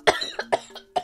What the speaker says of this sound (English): I just had like the worst cough attack in the world.